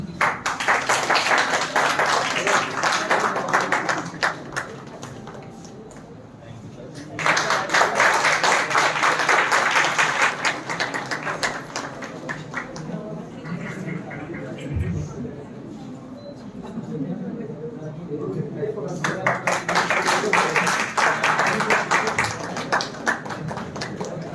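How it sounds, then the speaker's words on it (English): An audience at a university inaugural session on the National Education Policy 2020 breaks into applause in three sustained waves, with quieter hall noise and brief taps in between. "Please give a huge round of applause."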